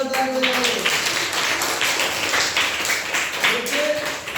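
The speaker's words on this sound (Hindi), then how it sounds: "जोरदार ताली बजाइए।" Students in a school classroom clap together, a dense, steady patter of applause that runs throughout at close range, with a little voice and harmonic tones surfacing at the start and near the end.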